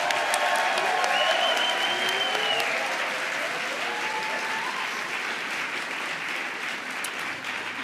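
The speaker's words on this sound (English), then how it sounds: "Let's give all of our competitors another round of applause." Sustained applause from a large convention crowd for women's barbershop chorus competitors, a dense, even roar of clapping that stays strong throughout, with a few whoops and cheers rising briefly over it.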